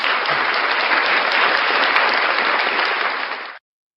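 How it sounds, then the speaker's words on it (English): A steady burst of loud, dense applause sounds for about three and a half seconds, then cuts off abruptly into silence. "Round of applause for First Amendment shenanigans"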